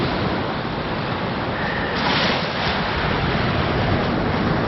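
Waves of Lake Superior wash against the river mouth and shore, a broad continuous rush of surf blended with wind, loud and unbroken.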